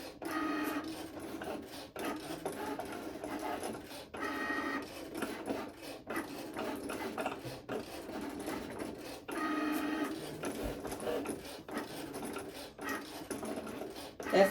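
A Cricut cutting machine cuts vinyl with a steady mechanical whir and buzzing carriage movement, broken by brief pauses as it changes direction. The sound is close and continuous, with no talking.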